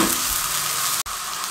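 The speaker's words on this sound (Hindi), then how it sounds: "1 टेबलस्पून लहसुन अदरक का पेस्ट शामिल करेंगे और 1 मिनट के लिए मज़ीद इसके अंदर इस तरह भुनाई करेंगे प्याज के साथ।" Onions frying in a pan with ginger-garlic paste give a steady, close sizzling hiss throughout, broken by one brief cut near the end; no voices.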